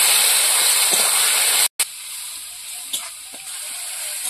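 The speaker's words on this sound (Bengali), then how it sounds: "এবার ভালো করে মশলাটা কষিয়ে দেবো।" Spice masala with sour yogurt and garam masala sizzles in a hot pan for a green banana fish curry, a loud continuous frying hiss broken by one brief silence, with faint stirring scrapes and no talk.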